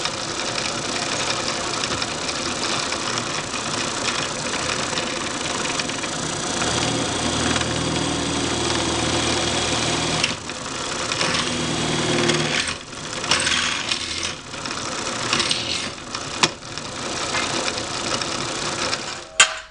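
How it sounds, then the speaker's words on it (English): A steady high-pitched mechanical whir of a drill press with a titanium bit runs continuously, with grinding and bursts of metallic cutting into steel EMT conduit toward the end, close and loud. "I'm going to use a titanium drill bit because this is going to go through drill bits"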